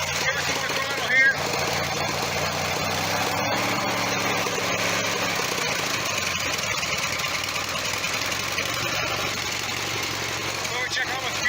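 An MTD lawn mower engine fitted with full mufflers runs steadily and loud for the whole stretch, its throttle held up with a rough, continuous drone and a few sharp clicks.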